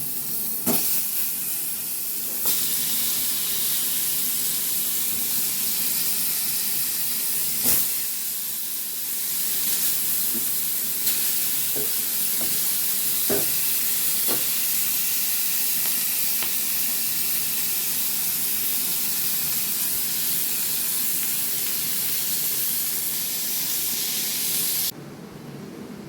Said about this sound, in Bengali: এবার ইলিশ মাছের মাথা এর মধ্যে ভেজে নেব।